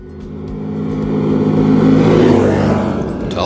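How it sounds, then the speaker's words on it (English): A Can-Am Defender 1000 side-by-side driving fast, its engine close and loud, rising in pitch and roar as it accelerates and holding strong throughout. "And this Can-Am is fast."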